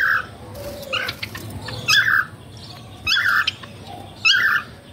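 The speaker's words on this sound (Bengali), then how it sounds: "এই যে এটা ফিমেল পাখি, ওটা মেল পাখি" A pair of pet Java sparrows, one male and one female, give short squawks and chirps in several separate bursts, fairly close and clear against a quiet room.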